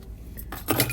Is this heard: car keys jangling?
yes